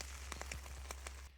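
Hail mixed with rain patters steadily on an umbrella outdoors, a dense continuous hiss broken by sharper ticks and taps, with a low steady hum underneath.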